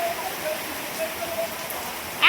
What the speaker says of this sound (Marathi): लय पाऊस आहे मोकार.